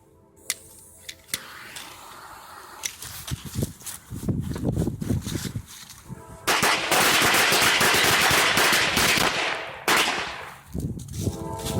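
Powder Keg firecrackers going off: a few sharp isolated pops, then a rapid crackling barrage that builds into a dense, loud continuous string of bangs before tapering off, close to the listener.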